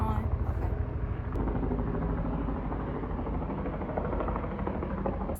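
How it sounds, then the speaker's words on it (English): A helicopter lands nearby, its rotor thudding and engine droning loud and steady throughout, close and dominating the scene. "It was a helicopter landing over there behind me."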